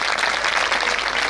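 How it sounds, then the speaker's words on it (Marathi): Audience clapping at a kirtan during an akhand harinam gathering, a dense, steady wash of many hands close and loud, with no break in it. "यानंतर विशेष प्रामाणिक इमानदारीनं टाळ्या वाजवायच्या"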